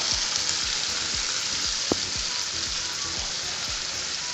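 Pepper sizzling and frying in oil reused from frying fish for a pepper sauce, a continuous dense crackle with scattered pops, close and steady.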